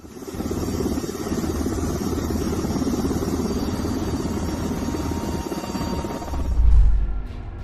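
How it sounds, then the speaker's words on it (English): Helicopters refuelling in flight from airborne tankers via an extended fuel hose, flying in close formation at high speed, give a steady, dense rotor and engine roar throughout, with a deeper rumbling swell near the end. "specially equipped helicopters connect with airborne tankers via an extended fuel hose, all while maintaining perfect formation at high speeds"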